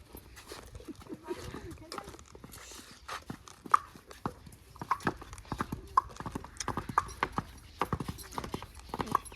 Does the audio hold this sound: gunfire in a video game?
no